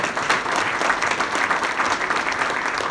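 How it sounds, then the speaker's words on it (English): A breakfast gathering's audience claps steadily for Mr. Arnett, a dense, even round of applause filling the room for about three seconds with no voices over it. "We give a round of applause"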